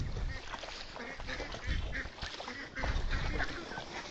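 White ducks heading home at evening on a village duck farm, a flock quacking and honking continuously at close range against busy, rustling background noise.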